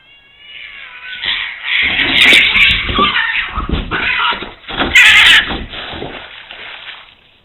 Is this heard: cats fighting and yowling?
yes